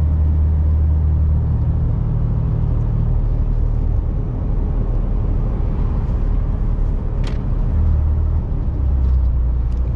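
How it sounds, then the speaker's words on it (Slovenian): A truck engine runs during diesel particulate filter regeneration with a deep, steady, loud rumble close by and a low droning hum underneath, continuing unbroken with no talk. "Tudi slište mogoče, koliko je bolj globi zvok kamiona."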